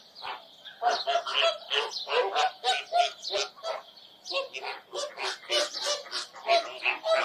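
Birds at Thol Lake bird sanctuary honk and call repeatedly in a dense, overlapping chorus of goose-like cries, close and loud, with no pauses.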